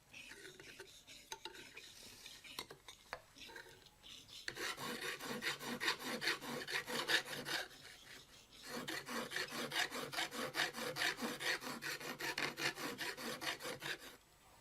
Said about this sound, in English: it's polished with a file